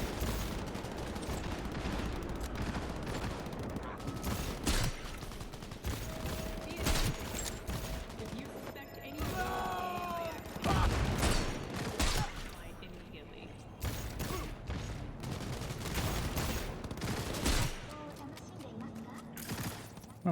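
Gunfire in the Cyberpunk video game crackles through as irregular bursts of shots and mechanical clatter, some close and loud, with metallic whines and game effects, and someone talks intermittently over the action.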